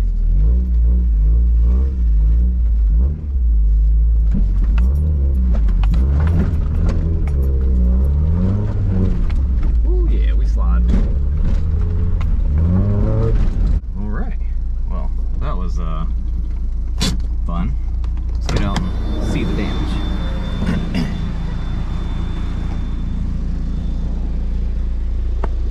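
A lifted two-wheel-drive Mazda Miata crawls over rough off-road ground, its mid-pitched engine revving and straining with bumps and rattles, while someone talks intermittently over it.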